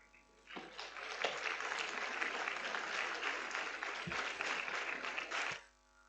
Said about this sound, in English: Give a big round of applause for Cadet Ritika along with her parents